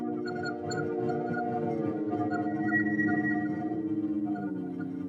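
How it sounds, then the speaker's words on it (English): Brain activity during sleep turned into sound: eerie sustained tones and warbling chirps drift and shift slowly over a low pulsing hum, steady and fairly quiet with no voices. "It's the patterns of activity of different parts of our brains as we sleep"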